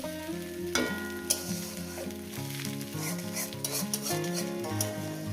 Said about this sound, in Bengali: এইভাবে বেগুনটাকে আমি মিনিট দুই ধরে ভাজবো